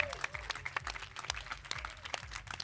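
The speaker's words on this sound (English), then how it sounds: "So please welcome with a warm clap of hands, François," Audience applause welcoming a speaker at a festival talk, a modest, fairly faint round of clapping heard from within the crowd.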